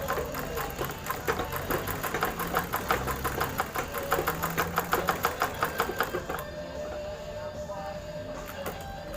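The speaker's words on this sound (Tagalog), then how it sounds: "tahin na natin itim" A sewing machine stitches a gun holster with black thread in a fast, even run of mechanical clatter. It stops abruptly partway through, then low hum and faint sounds carry on.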